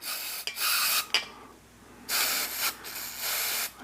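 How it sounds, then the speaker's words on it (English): Bursts of aerosol gun cleaning lubricant hissing close up onto a Taurus 1911 .45 ACP barrel: two short sprays, a pause, then a longer sustained blast and another spray. "So I like to just take that, simply spray it down"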